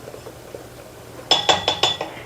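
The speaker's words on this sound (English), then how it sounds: "I'm going to give that just a quick little stir." Four quick ringing clinks of a utensil against a glass mixing bowl while arnica hand balm ingredients are stirred, bright and close after a quiet start, with no talking.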